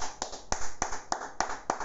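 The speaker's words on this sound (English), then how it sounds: "I clap for Two-Face." Six slow, evenly spaced hand claps, close and crisp, each a sharp isolated snap with quiet gaps between, no talking.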